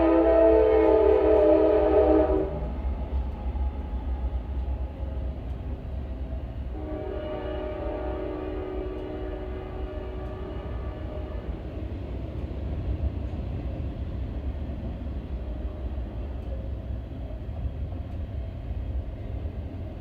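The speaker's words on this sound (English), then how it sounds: "About every time a train comes through." A passing train sounds a loud, sustained horn blast, then a second, softer horn note, under a steady low rumble of rail cars rolling by.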